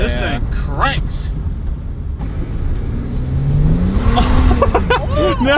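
A BMW E90 335i pulls hard under full boost, its engine note rising and swelling from inside the car while people talk and exclaim loudly over it.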